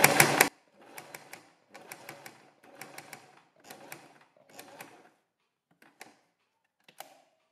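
Sewing machine stitching fabric pieces for a front or back neck design: a loud opening burst, then five short runs of rapid mechanical clatter with pauses between, ending in a few isolated clicks.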